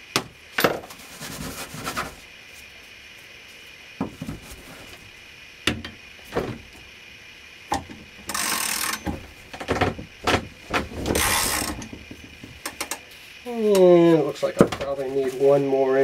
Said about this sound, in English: while I press that first increment of delay composition.